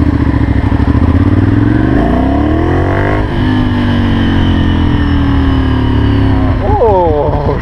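A Ducati Monster 796 motorcycle rides through Paris streets, its engine loud and close throughout, with revs rising and falling through gear changes and a burst of quick revving near the end.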